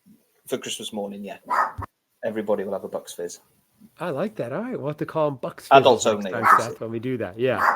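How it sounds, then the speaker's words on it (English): Dogs bark and yip excitedly in a home at Christmas, their high, whiny calls mixed in with people chatting over them throughout. "Sorry about the dogs barking."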